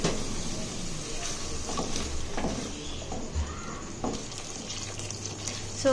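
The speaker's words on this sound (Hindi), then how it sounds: "बस पानी को ऐड करके हमने तकरीबन इसे 2 मिनट तक पकाना है लो फ्लेम पर" Spinach cooking water pours into a pan of kofta curry on the stove, a steady splashing, gurgling wash of liquid lasting several seconds, close and moderately loud with no voices over it.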